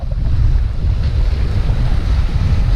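Strong wind buffets the microphone while waves slosh against a sailboat near Kodiak, a loud, continuous low roar and rumble of water and gusts with no voices.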